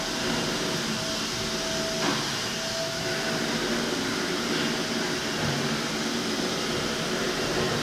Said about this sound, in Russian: Соседи пылесос работают.